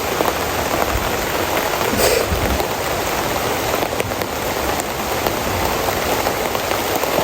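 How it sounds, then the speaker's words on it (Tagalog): Heavy rain pours down steadily, a loud dense hiss of drops drumming on surfaces with no break throughout. "mamaya na, malakas pa yung ulan."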